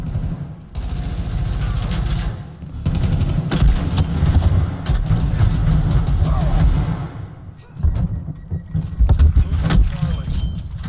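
A sledgehammer bonk sound effect in a multiplayer shooter game amid busy gameplay noise, with repeated sharp impacts and mechanical clatter over a dense background, broken by a couple of brief drops in level.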